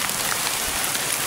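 Heavy rain pours down in a loud, dense, unbroken roar of hiss, close by and alone.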